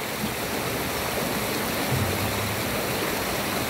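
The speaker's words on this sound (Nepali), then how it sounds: "पानी झरेको" Water pours down steadily from a hole in a suspension bridge work area at a labour culture park, a continuous rushing, splashing wash with a faint low hum underneath, fairly near and unbroken throughout.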